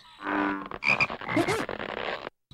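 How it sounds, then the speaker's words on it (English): A frog croaks close by in a short run of throaty, pulsing calls lasting about two seconds, then falls silent. "When a frog croaks, it puffs up the skin around its neck and vibrates the air really fast."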